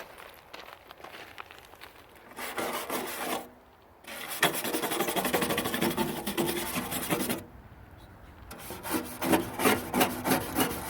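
Paint and rust being scrubbed off a Yerf Dog 3020 go-kart frame after acid treatment, with close, rough rasping strokes in long bursts separated by brief pauses.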